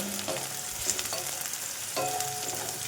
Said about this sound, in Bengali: ভালো করে পেঁয়াজটা তেলের সাথে একটু নাড়াচাড়া করে নেব।